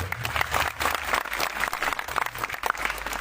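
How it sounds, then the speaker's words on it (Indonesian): Audience clapping at an Independence Day religious gathering, a dense steady patter with a low background hum and scattered voices mixed in. "Tepuk tangannya mana untuk program?"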